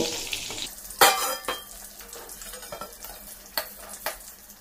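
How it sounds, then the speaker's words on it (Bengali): Pointed gourd (potol) frying in oil in a pan, a close hiss and sizzle with sharp spatula scrapes and clinks of the pan at irregular moments, no talking. "দেখুন পটল খুব ভালোভাবে ভেজে নিয়েছি"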